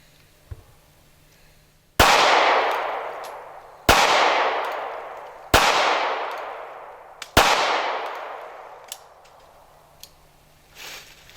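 Four loud, sharp pistol shots from a Smith & Wesson Bodyguard .380 firing Fiocchi ammunition, spaced roughly two seconds apart outdoors, each cracking sharply then ringing down, with small clicks in between.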